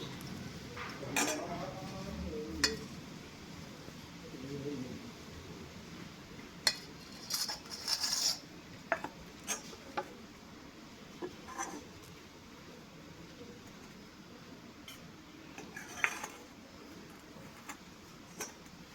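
Spoonfuls of maida papad batter being placed onto plates in a home kitchen, heard as scattered light clinks and taps of a spoon on dishes, several quick ones clustered together, moderately close and fairly quiet, with no talking.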